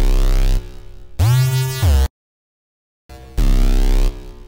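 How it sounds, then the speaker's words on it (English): A synth bass from the Harmless VST in FL Studio, played as sustained, loud, buzzy notes with a deep low end and shifting filtered tone, with a silent gap between phrases and no voices. "I'm using a synth that sounds like this."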